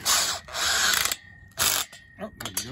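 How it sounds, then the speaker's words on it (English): Cordless drill with its clutch on the heaviest setting slips and ratchets while tightening bolts on a steel handrail mounted to concrete. Loud, close bursts of clicking come in two or three runs separated by brief pauses, with no talk. "Oh, there you go, clutch kicking in."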